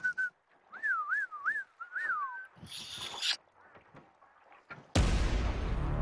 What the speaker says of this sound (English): That's whistling for the fish.